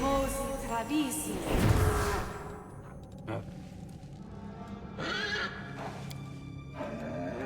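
A horse whinnies loudly up close in Pathfinder: Wrath of the Righteous, followed by snorts and clip-clopping hooves against a steady game-like background hum.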